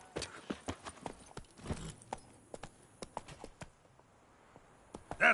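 Roach the horse's hooves clip-clop in The Witcher 3 game, a steady run of sharp close hoofbeats with brief pauses and a louder knock at the end.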